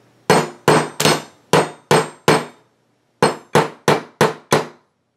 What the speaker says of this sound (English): may sound loud, but I'm really just giving it very light taps because I'm trying to get these holes lined up